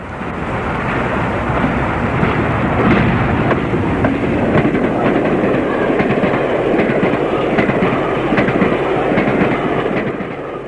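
A British Rail Class 40 diesel locomotive passes eastbound at Shire Oaks in 1983, a loud, steady engine roar with rolling wheel rumble and faint rail clatter sustained throughout, no voices.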